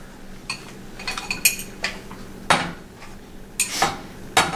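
Metal cookware clinks and knocks as pasta and tomato sauce are tipped into a pan: a string of sharp, close clinks and taps at irregular intervals, with the louder clanks near the end.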